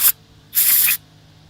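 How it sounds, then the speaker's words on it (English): An aerosol spray can sprays inside the holes of rear brake parts on a 2014 Ram 3500 HD dually, two sharp close hissing bursts, a quick one then a longer half-second blast, with no talk. "Spray the inside of these holes."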